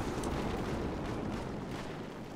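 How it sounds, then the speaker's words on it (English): Artillery shelling pounds a bunker in the military shooter Project Reality, a dense continuous low rumble of explosions and debris roaring steadily throughout, loud and unbroken, with no distinct separate blasts standing out. "They're shooting the bunker."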